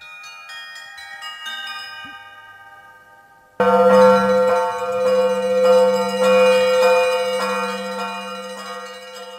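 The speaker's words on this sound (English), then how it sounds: "The clean, solemn ringing of bells was coming from the nearby villages." Church bells ring out from nearby villages on Easter night, first a lighter peal of chimes, then a sudden loud, dense clang of several large bells tolling together with long, overlapping resonance.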